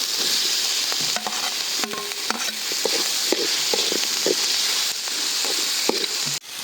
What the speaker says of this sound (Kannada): ಈಗ ಹೆಚ್ಚಿಟ್ಕೊಂಡಿರೋಂಥ ಟೊಮೊಟೊ ಹಾಕ್ಕೊಳ್ತಾ ಇದ್ದೀನಿ